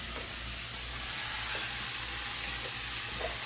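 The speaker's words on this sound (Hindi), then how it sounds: "मिर्च लहसुन ऑनियन सभी काट लिया है, हमें फ्राई कर लेगा इसको" Chopped chili, garlic and onion frying in hot oil, a dense, steady sizzle filling the whole stretch, close and loud with faint stirring scrapes underneath.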